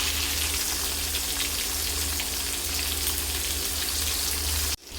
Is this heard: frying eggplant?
yes